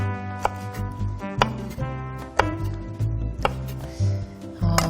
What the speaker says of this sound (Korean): 고사리는요, 좀 적당한 크기로 썰어주세요. 4cm 정도.